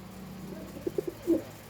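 Saharanpuri Neela pigeons give a few soft, low coos near the end, three quick notes followed by a longer one, heard close over a quiet background hum.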